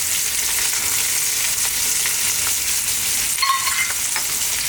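Chili powder, turmeric and ground black lime fry in a pan of oil over just-below-medium heat, a steady hissing sizzle with brief stirring scrapes and no voices.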